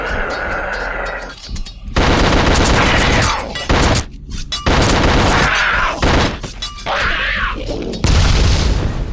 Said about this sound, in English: I might as well go ahead and pull out the Tommy gun